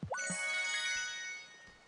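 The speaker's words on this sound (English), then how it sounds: "That was quite the ding." A bright ding chime from the video game Wylde Flowers rises quickly, then rings as a sustained shimmering tone for over a second before fading. It plays alone, with no talking over it.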